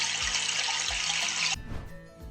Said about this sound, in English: It plays a recording of flushing for a few seconds and can be triggered repeatedly without wasting actual